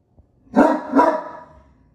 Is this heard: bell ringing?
no